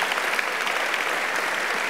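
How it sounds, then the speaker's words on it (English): Steady round of audience applause for Diana and the Cub Scouts at a 2021 National Philanthropy Day gala in Orange County, a dense, even wash of clapping with no voices over it. "let's give another round of applause for Diana and our Cub Scouts"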